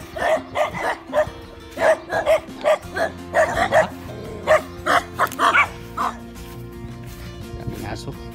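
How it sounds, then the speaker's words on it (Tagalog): Several neighbourhood dogs bark and yip in repeated bursts at moderate distance, with an occasional whimper, while a person talks over them. "Daming aso yung kapitbahay nila eh."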